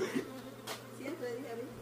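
A swarm of bees hums and buzzes at night around a man, a low, wavering drone in the background while people talk nearby.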